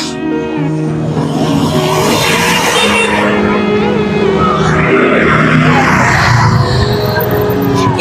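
A car engine runs steadily as the vehicle drives past on a street, a loud, continuous motor hum with some tire noise, while people talk over it throughout.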